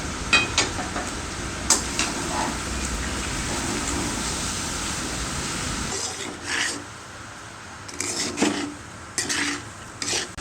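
Spoon stirring tamarind pulp through cooked Ravan Bhat rice and dal in a pot, a steady scraping, sizzling wash for six seconds, then separate close clinks and scrapes with pauses between.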